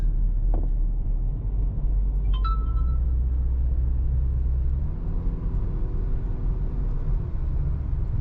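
Heard from inside a car cruising through Cancun, a steady low road rumble and engine drone continue throughout, with a few brief faint clicks early on and no talking.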